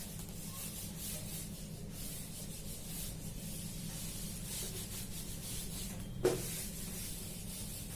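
A teacher wipes a classroom board clean, a steady, soft rubbing swish that runs continuously, broken by a single brief knock near the end.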